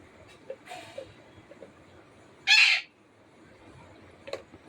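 Mithu, a pet parrot in a home kitchen where dal is cooking, gives one loud, sharp screech midway, with a few fainter short calls before and after over a quiet background.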